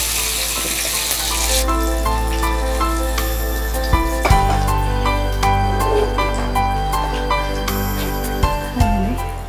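Hot tempering poured over jackfruit and prawn puzhukku gives a sizzling, bubbling hiss that runs steadily, broken by a few sharp clinks and knocks of utensils, while a music bed plays underneath.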